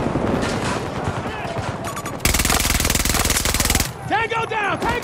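Rapid sustained machine gun fire in a 32-versus-32 Battlefield 2042 Conquest match, a loud continuous rattling burst in the middle, set among other battle noise with scattered shots and whistling sounds before and after, and voices talking.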